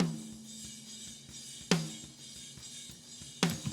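Snare drum with a brighter EQ in a metal and rock mix, two crisp cracks about two seconds apart ringing out over a quiet steady low hum, with no voices.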